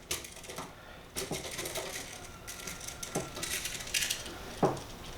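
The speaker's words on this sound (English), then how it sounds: "you're tightening up the actual wire on the screw" Small metallic clicks and scrapes come from a screwdriver tightening a wire under a screw terminal while a Navien tankless water heater is wired, a few sparse taps close by with quiet handling noise between them.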